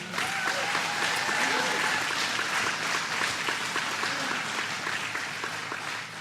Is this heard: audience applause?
yes